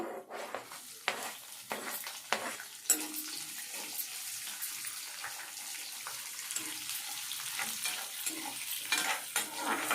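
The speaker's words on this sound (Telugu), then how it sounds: "ఎండుమిర్చి, చట్పట్ట ఆడుతుందండి. ఎర్రగడ్డ, తెల్లగడ్డ, కరివేపాకు వేస్తున్నానండి." Dried red chillies crackle as onion, garlic and curry leaves fry in hot oil for mango dal, with irregular spitting pops and stirring scrapes over a continuous sizzle.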